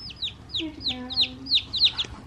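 A young Easter Egger chicken, likely a cockerel, gives a quick series of high peeping chirps close up, about ten in a row, with a brief low warble partway through.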